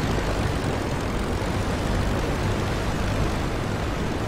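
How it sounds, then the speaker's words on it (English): A steady, droning propeller engine of an Albatros D.III biplane in the flight game Rise of Flight, running rough, hums continuously at even loudness, a dense low rumble with no breaks or voices. "Engine sounding weird again."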